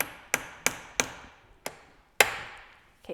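Six sharp metallic taps as a Ford tractor hydraulic valve is tapped back into place, spaced unevenly, close and crisp, each ringing briefly before the next, with no talk.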